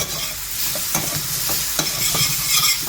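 Pork fries in a pan with a constant, close sizzle, broken by a few sharp scraping knocks from stirring.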